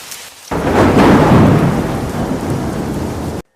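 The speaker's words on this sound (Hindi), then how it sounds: "तभी बारिश शुरू हो गई।" Heavy rain with a rolling thunderstorm begins abruptly, a loud, dense roar of rainfall and rumbling thunder that stays steady for a few seconds, then cuts off.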